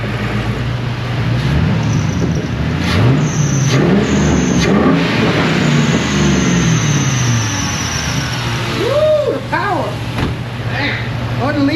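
A Ford Mustang engine accelerates on a road, a loud close rumble rising and falling through repeated revs and gear changes, with people talking over it.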